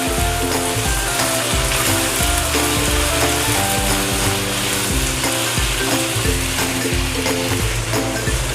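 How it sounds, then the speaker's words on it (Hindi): Pieces of chicken sizzle and crackle loudly in a hot pan, a dense, steady fry with scattered sharper pops close by and no one speaking. "चिकन को हम कलर चेंज होने तक फ्राई करेंगे।"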